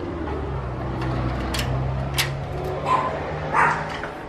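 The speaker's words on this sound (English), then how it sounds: "The dogs haven't even started barking yet." Dogs barking and yipping at a few scattered moments, fairly faint and mid-distance, over a steady indoor hum with no talking.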